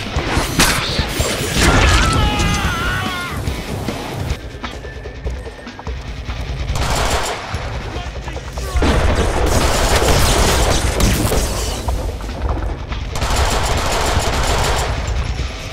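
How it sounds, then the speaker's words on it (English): Rapid machine-gun bursts from the Deadpool video game, loud and close, coming in several sustained volleys with short gaps and heavy impacts mixed in, with no talk over them. "I have a machine gun!"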